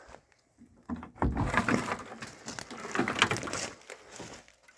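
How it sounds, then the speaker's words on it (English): A creaking, scraping rattle of an old 1961 Chevy Impala SS Bubble Top car door in a junkyard swinging open and shut nearby, with a muffled thump and metallic rustle. "The door still opens and closes."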